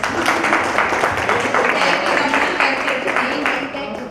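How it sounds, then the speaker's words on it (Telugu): Applause from a gathered crowd for the mentors at a 1995-batch school class reunion, steady dense clapping sustained throughout, fairly close and loud, tapering slightly near the end. "కానీ నిజంగా వాళ్ళకి ఒకసారి క్లాప్స్"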